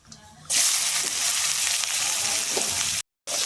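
Chopped onions drop into hot oil with cumin and curry leaves, bursting into a sudden loud hiss that holds steady with stirring scrapes before a brief cut, close and without speech.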